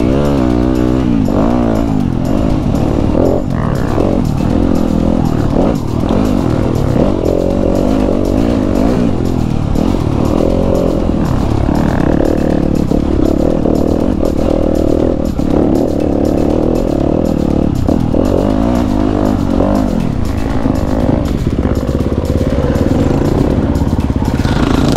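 A 2019 Yamaha YZ250F dirt bike engine runs throughout, a loud close buzzing four-stroke drone with continual throttle blips and rev changes and no pause.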